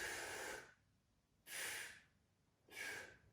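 Three slow, deliberate breaths, each a soft, close airy rush lasting under a second, separated by short quiet pauses during a breathing exercise.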